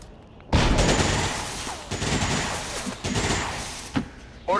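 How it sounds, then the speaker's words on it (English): Bursts of video game gunfire from XCOM 2 suppression fire, loud and close, with repeated volleys and thuds that begin abruptly and run through the whole stretch. "I'm taking fire!"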